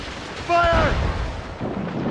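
Ship cannon fire in a naval battle from the video game Assassin's Creed Rogue: a single heavy boom bursts out midway and rumbles off, with brief shouting layered over it.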